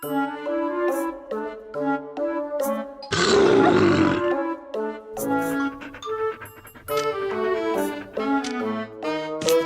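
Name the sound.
roar in a video game to scare dogs away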